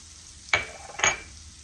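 Onions and celery hitting a hot pan for seafood stew, two quick soft sizzles about half a second apart, faint and close, with quiet between them.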